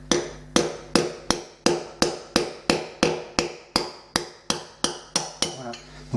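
A hammer strikes a thin chisel held nearly flat to push out tile grout, about fifteen sharp, evenly spaced metallic blows at close range, each ringing briefly.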